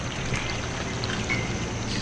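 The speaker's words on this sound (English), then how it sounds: "Pumping a lot of water out." Several bilge pumps on a large fiberglass boat in a marina discharge water in a steady, continuous pouring splash, loud and close with no break throughout.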